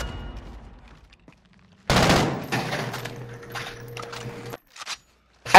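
Gunfire in a shooting video game, a sudden loud burst of rapid automatic shots followed by sustained firing and a ringing tone, ending with a few separate shots.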